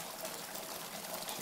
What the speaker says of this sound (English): we're draining the syrup into the canning